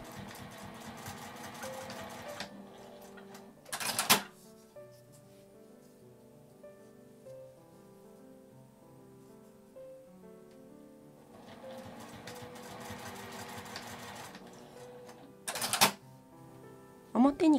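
A sewing machine stitches the side seams of a zippered accordion coin purse in two steady whirring runs, each followed by a short sharp clatter, with music playing underneath.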